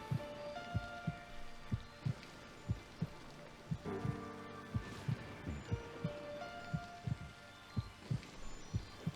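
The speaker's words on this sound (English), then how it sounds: "Ooh, a heartbeat." A slow, steady video game heartbeat thumps in regular double pulses, soft and low, over a faint ambient drone with no talking.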